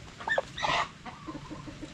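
A native chicken on a farm clucks a few times nearby, short sharp calls followed by softer low clucking.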